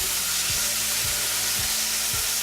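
Chili sauce sizzles hard in a hot pan with seitan, a loud steady hiss of frying broken by a few soft stirring scrapes at regular intervals.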